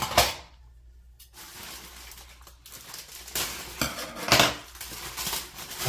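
Dishes and cutlery clink and clatter in irregular bursts as hilsa fish is taken out and set on plates, with quieter shuffling between the louder knocks.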